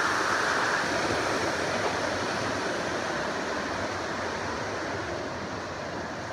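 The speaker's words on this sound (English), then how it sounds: "nice little waterfall." Small waterfall beside the Appalachian Trail, a steady broadband rush of falling water heard close and continuous, easing slightly toward the end, with no voices.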